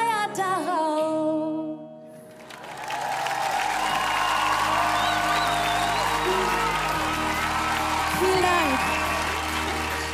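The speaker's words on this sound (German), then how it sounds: "Standing Ovations vom Publikum" An audience bursts into loud applause and cheering for a singer's performance on a televised singing competition, a dense sustained roar with whoops following the song's final notes.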